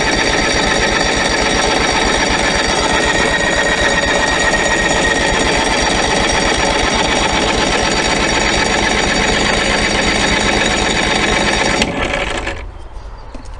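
An old engine from a stored hoard turns over on the starter without firing, a steady, loud, buzzing crank that runs unbroken for about twelve seconds before cutting off abruptly.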